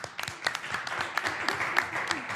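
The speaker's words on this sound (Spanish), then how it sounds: "Un aplauso." A church congregation at a Bible study on future times claps in a steady burst of applause, many hands patting together at close to moderate distance with no break.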